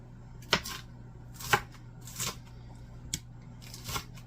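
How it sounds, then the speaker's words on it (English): A knife chops salad mix on a cutting board in a home kitchen, giving five sharp separate strikes about a second apart. The strikes are close and fairly quiet, with no talking. "So we're just going to chop that up a little bit smaller."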